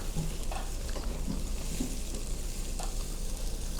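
Grilled beef tripe (yang daechang) being stirred on a hot grill at a Korean barbecue spot near Hakdong Station, giving a dense, steady sizzle with faint scraping strokes, close and continuous.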